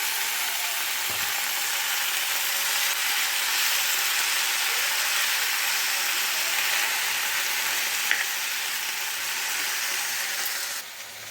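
Gongura leaves fry in hot oil over a low flame for an Andhra-style pachadi, a steady close, dense sizzle with a faint bump or two, holding evenly for about eleven seconds without any talk.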